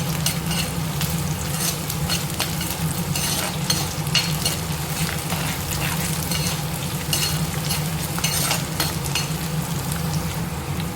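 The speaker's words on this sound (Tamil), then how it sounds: "பூண்டு நல்லா வதங்கிடுச்சு" Garlic sautéing in a pan for a spicy tamarind curry, loud continuous sizzling with constant scraping and stirring close by, no voices.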